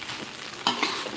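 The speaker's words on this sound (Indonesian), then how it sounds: "Aduk, jangan sampai gosong." Nasi goreng kebuli ayam (chicken fried rice) is stirred in a hot pan, a constant sizzle broken by a few louder scraping stirs near the end, close and without speech.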